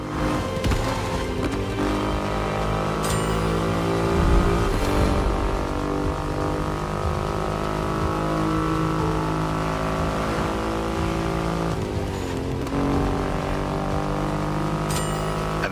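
Triumph Rocket 3 motorcycle with a 2.5-litre engine in The Crew Motorfest racing game, a loud, steady engine drone that holds throughout, with no talking.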